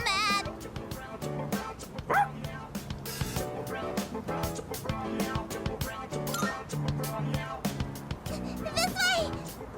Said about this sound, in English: He accidentally stepped on a doggy's tail. And now he won't stop chasing him.